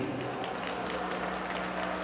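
An outdoor Japanese matsuri crowd applauds a singer, a steady, dense wash of clapping from many hands that carries on without pause, with no one talking.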